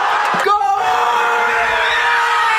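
Football fans in a crowd let out a loud, sustained, drawn-out goal shout, one long voiced yell that holds steady over a roaring crowd background.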